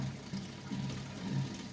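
Water from an automatic top-off pours into the sump of a 600-litre aquarium, a faint, continuous gurgling flow with soft rhythmic surges and no voices.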